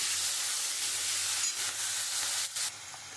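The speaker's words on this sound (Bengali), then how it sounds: "পেঁয়াজটা আমি একটু লাল লাল করে ভেজে নেব।" Onions fry in oil previously used for fish, tempered with nigella seeds, for a mustard curry. A close, steady, loud sizzle hisses continuously, with slight dips and surges as the pan is stirred.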